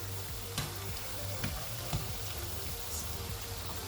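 Onion bhajis frying in hot oil, a steady low crackle with a few sharper pops scattered through, fairly quiet and with no voices.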